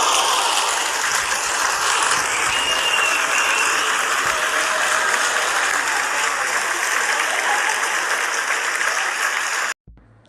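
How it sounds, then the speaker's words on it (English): Sustained audience applause from a podcast comedy show crowd, a dense wash of clapping that holds steady and loud for about ten seconds before cutting off abruptly. "clap it up for us one time."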